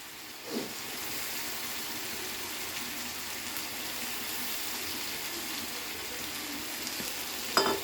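Lotte fish curry with coriander leaves is stirred in a pan, making a soft, steady sizzle with faint scraping, plus a brief knock near the start and another at the end.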